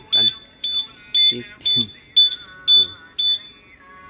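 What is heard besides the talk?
modified keyless key alarm beeping on Fox-R motorcycle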